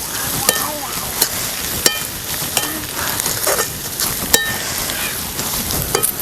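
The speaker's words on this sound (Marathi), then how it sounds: "आता हे तेलामध्ये एकजीव करून घ्यायचं सगळं चांगलं भाजून घ्यायचं" Onion, garlic, masala, salt and turmeric frying in hot oil for egg bhurji, with a steady loud sizzle close by and a spatula scraping and clinking against the pan in an irregular rhythm.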